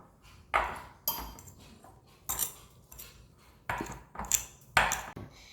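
Hard-boiled egg yolks are mashed with a fork on a plate for deviled eggs, giving a series of sharp clinks and scrapes of metal on ceramic in irregular bursts, close and fairly loud, with no talking.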